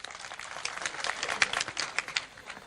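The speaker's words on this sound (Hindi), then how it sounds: "मैं ये चाहता हूँ कि एक मरतबा उनके लिए तालियां बजा दीजिए।" An audience at an Urdu poetry mushaira claps in a brief, moderately loud burst of scattered hand claps, rising and falling, with no talk over it.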